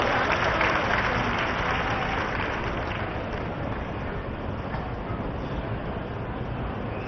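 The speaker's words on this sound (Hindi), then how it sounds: "ताली बजा कर स्वागत करा।" Sustained, dense applause from an audience welcoming guests at a state-day closing ceremony in Raipur, Chhattisgarh. It starts loud, eases slightly and keeps steady throughout, with no voice on top.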